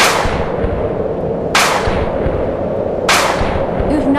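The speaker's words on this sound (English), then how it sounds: "Maybe we should use this gun to break down the wall." Loud gunshots in a video game, fired at a wall to break through it, with two sharp blasts spaced about one and a half seconds apart over a dense, roaring background.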